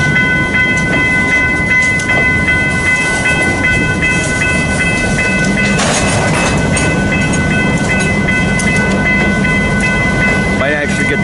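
UP BNSF freight train rumbling past on the main line in Fremont, Nebraska, a steady loud roar with metallic squeal and wheel noise throughout, and a brief horn-like tone near the end.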